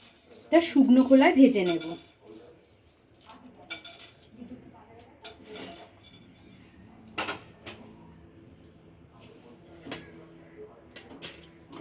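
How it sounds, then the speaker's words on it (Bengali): Whole cardamom, cinnamon, cloves and peppercorns tossed into a dry kadai: a short voice at the start, then scattered, sparse metallic clinks and rattles against the pan. "এবারে এই শুকনো কড়াইতে দেব এলাচ দারচিনি লবঙ্গ আর কয়েকটা গোটা গোলমরিচ"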